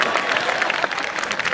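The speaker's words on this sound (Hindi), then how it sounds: "एक बार ताली बजा दीजिए तो मैं शुरू हो जाऊं" Audience at a Hindi comic poetry gathering in Kanpur claps in a dense, steady burst of applause from a crowd, heard close and continuous for a moment with no speech over it.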